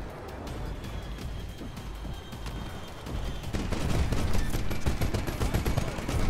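Sustained gunfire in the Titanfall shooter game, a dense crackle of rapid shots that grows louder and heavier midway through, with no voices over it.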